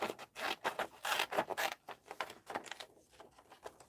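Scissors snip through a paper picture of woods in quick, close, quiet cuts, a rapid run of crisp clips that thins out toward the end.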